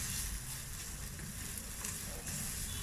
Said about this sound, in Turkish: tavamı aldım. Biraz soteledikten sonra bu fasulyeme ilave edeceğim.